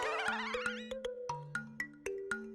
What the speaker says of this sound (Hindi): फिर टप्पू के मोबाइल की रिंगटोन भी सुनी थी